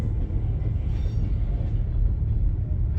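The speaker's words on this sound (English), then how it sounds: "A little short train" A short Georgia Northeastern freight train rumbles past close by, a steady low roar of wheels and cars with no voices.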